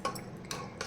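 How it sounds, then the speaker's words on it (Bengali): Spoon scraping and clinking against a pot while rajma curry, Punjabi home style, is mixed; a few short metallic scrapes in quick succession, close and moderately quiet, with no talking. "এবার আমি আবার এটাকে ভালো করে মিশিয়ে নিলাম।"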